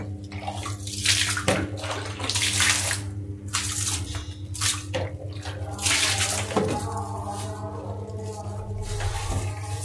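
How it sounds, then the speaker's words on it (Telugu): Water poured and splashing across a bathroom floor during cleaning, a steady rushing wash that continues throughout, close and fairly loud. "అంతా కూడా వాటర్ అయితే పోద్దాం."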